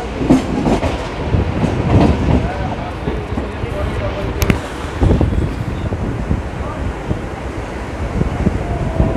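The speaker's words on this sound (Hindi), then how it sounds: "तो अपनी ट्रेन पहुंचती हुई ठाणे स्टेशन पे" A Mumbai fast local train pulls into Thane station, giving a steady loud rumble of wheels and carriages with rhythmic clatter and wind buffeting throughout, and crowd voices faintly underneath.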